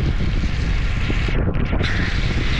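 Loud, constant rush of strong headwind buffeting the microphone while cycling, a dense roar filling the whole clip with no voices.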